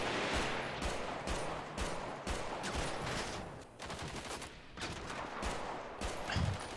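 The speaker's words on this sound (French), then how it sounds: "Ça tire." Rapid bursts of automatic gunfire and scattered single shots crack through a GTA RP video game shootout, loud and dense with repeated broadband impacts across the whole stretch.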